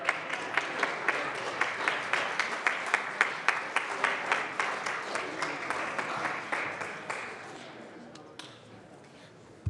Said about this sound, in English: please stand up and we'll clap for you